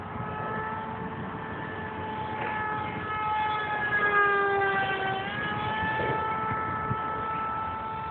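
An aircraft engine drones steadily overhead, its whining tone dropping in pitch as it passes, fairly faint with no talking.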